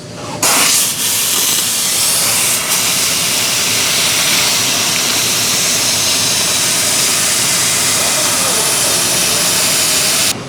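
A plasma cutter slicing quarter-inch stainless steel on shop air gives a loud, continuous roaring hiss that starts abruptly and holds steady for about ten seconds before cutting off, with no talking.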